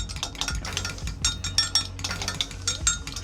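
Melted butter and chopped garlic stirred together in a bowl, giving a run of quick, close utensil clinks and scrapes against the dish at an uneven rhythm, with no voices.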